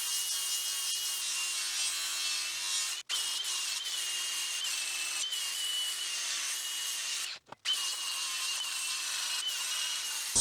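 Angle grinder grinding down clean weld beads on salvaged metal for DIY drive-over fenders, a loud, steady abrasive hiss that runs almost continuously, cutting out briefly twice before resuming.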